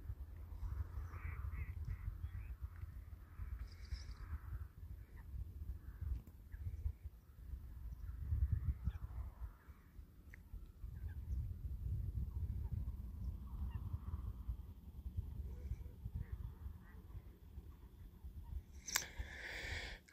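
Waterbirds call across a lagoon in Iran: crow-like caws and goose-like honks, near and far, scattered through a steady low rumble of outdoor noise.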